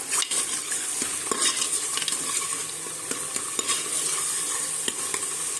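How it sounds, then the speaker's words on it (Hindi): Onion and tomato fry in mustard oil in a pan, a steady bright sizzle broken by sharp clicks and scrapes of a spoon stirring against the metal. "यहाँ पर हमारा जो प्याज और टमाटर है वो अच्छे से ऑयल में फ्राई हो चुके हैं।"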